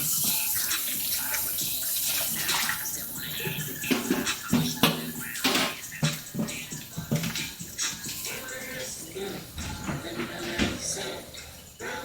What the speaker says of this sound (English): Straining this under cold water